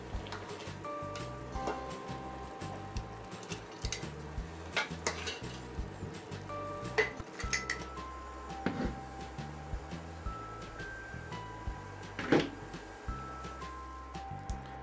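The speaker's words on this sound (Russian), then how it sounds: "Складываю грибы в чистые сухие банки." Marinated mushrooms being spooned into clean, dry glass jars in a kitchen, faint scattered clinks of glass and utensils with soft wet squelches, quiet and irregular.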